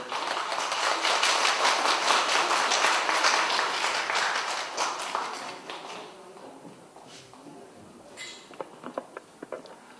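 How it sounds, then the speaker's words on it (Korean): Audience applause welcoming a dermatologist lecturer at a women's college medical lecture in Korea, a dense burst of clapping for about six seconds that thins out into a few scattered claps. "힘찬 박수로 맞아 주십시오"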